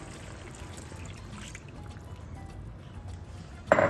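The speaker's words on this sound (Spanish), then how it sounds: "Ahora vamos a echarle 2 y media tazas de agua." Water is poured into a cooking pot for rice with okra and pork, a faint trickle and splash near the cook, ending in a brief louder burst.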